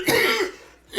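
A single harsh cough bursts out close by, trailing off and followed by a short second catch of breath at the end.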